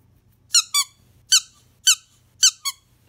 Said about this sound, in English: And yeah, a squeaky shark.